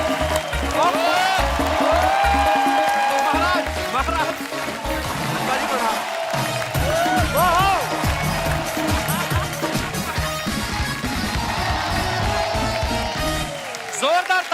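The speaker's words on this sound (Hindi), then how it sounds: "जोरदार तालियां हो जाए अनुपम सर के लिए।" A TV studio audience applauds loudly to welcome actor Anupam Kher on a comedy talk show, continuous clapping mixed with a band playing and voices speaking and cheering over it.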